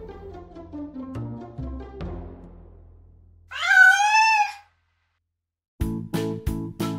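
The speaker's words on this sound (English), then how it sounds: "European wildcat. Larger than domestic cats with bushy tails and hunting skills." A European wildcat gives one drawn-out, wavering meow in the middle, framed by musical tones before and after and sounding fairly close and clear.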